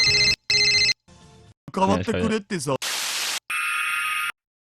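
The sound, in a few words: phone ringing in the video game Steins;Gate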